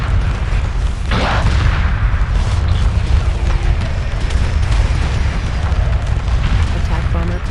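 A frigate blowing up during a space battle in a video game, a loud deep boom with rumbling bursts over dense continuous battle noise.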